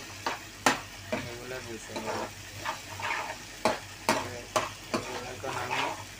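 Beans stir-fry in a pan with a steady sizzle, broken by repeated sharp scrapes and knocks of a spoon against the pan. A person talks over the cooking.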